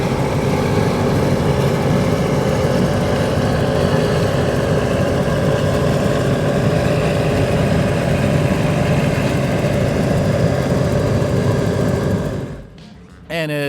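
Mercury Racing 1100 engines on a 42X powerboat roar at full throttle across calm bay water, a dense, steady loud drone that holds for about twelve seconds before abruptly dropping away near the end.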